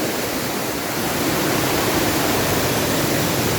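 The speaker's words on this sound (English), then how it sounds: "And this should be the daughter waterfall." A large waterfall rushes steadily along a hiking path, a dense, continuous roar of falling water filling the scene at close range with no voices.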